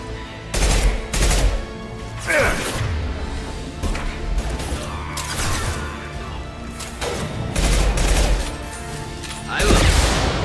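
Shotgun blasts in the video game Mass Effect Legendary Edition boom repeatedly in a tense firefight, loud, heavy, irregular shots with impacts and crashes between them.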